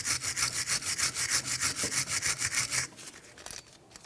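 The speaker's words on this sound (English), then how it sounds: "You can use a wire brush for this." A wire brush scrubs a Jeep Grand Cherokee rear brake caliper bracket in fast, even back-and-forth strokes, about a dozen loud rasping passes. Then it stops, leaving only faint scraping.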